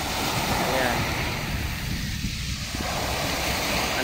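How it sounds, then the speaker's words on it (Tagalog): Growing sea waves break on Dolomite Beach as a continuous roar of surf, heavy with wind buffeting the microphone and a slight dip in intensity midway. "Lumalaki yung alon eh,"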